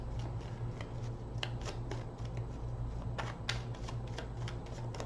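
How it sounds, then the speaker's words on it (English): Playing cards are shuffled repeatedly, crisp riffling bursts and snaps over a low background hum, close by. "3 more shuffles."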